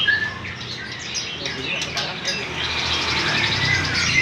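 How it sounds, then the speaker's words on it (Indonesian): A murai pastol bird in a bird shop sings bright, high chirps and tweets over a busy background of shop noise. "Ini untuk menampakkan murai pastol ya."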